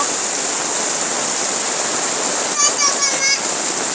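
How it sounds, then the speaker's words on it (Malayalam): Water pushed along by a strong wind near a home, a steady rushing hiss that stays even throughout, with a brief voice heard faintly near the end. "കാറ്റിന്റെ ശക്തി കൊണ്ടാണ് വെള്ളം ഇങ്ങനെ പോണേ. നല്ല കാറ്റ് വീശുന്നുണ്ട് കേട്ടോ."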